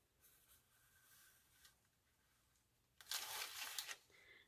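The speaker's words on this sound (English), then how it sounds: "So basically you go around the edges with the pencil." A Stabilo All pencil scratches along the paper edges of an art journal page, a dry papery rasp that swells loudly for about a second near the end after faint earlier strokes.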